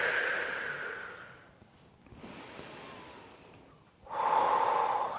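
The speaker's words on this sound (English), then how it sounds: "Really deep exhales. And deep inhale into the belly." Slow, deep breathing during a guided breath meditation, with a long exhale, a quieter pause, then a strong inhale drawn into the belly, close and alone with no talking.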